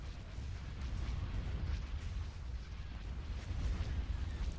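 A starship gun line in the space battle game Star Wars Thrawn's Revenge fires in a continuous rumbling barrage of low booms and blasts, steady and dense without clear separate shots.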